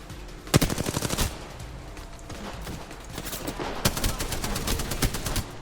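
Video game gunfire crackles in rapid automatic bursts, a loud volley early on, then quieter scattered shots and a second cluster of bursts toward the end, with no voices.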